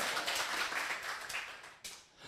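An audience at a coding bootcamp graduation ceremony claps in a dense, steady patter that rises and dips, pauses briefly, then swells again and fades, heard from within the room at modest volume.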